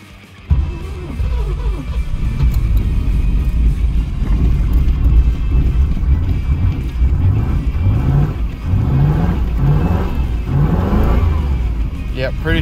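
A 1989 Camaro with a swapped-in LS V8 runs steadily and loud at close range, rising through several rhythmic revs over a constant rumble, with wind buffeting the mic and a voice briefly over it.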